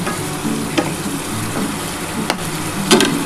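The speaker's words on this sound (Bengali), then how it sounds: "বন্ধুরা দেখো আমি এবার কিন্তু এই মাছটা দিয়ে ভালো করে কষিয়ে নিচ্ছি" Rita or black catfish chunks sizzling with potatoes in a pan while a spatula stirs them, a steady close fry broken by a few sharp scraping clacks and no talking.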